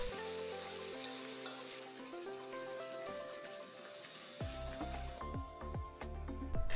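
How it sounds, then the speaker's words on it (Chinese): Chopped chili stir-fries in a wok with a little oil and minced garlic, crackling and sizzling steadily with stirring scrapes, close, under a sustained tonal background hum. "然后加入剁椒炒香"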